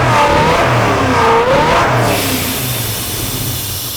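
A 1970 Dodge Dart with a swapped 6.4 Hemi V8 revs loudly through its exhaust, the engine rising to a strong roar and then falling back as the throttle closes.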